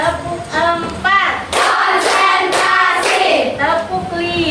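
Rhythmic hand claps from a classroom clap routine, mixed with children's voices chanting along throughout, with sharp bursts of claps close and loud.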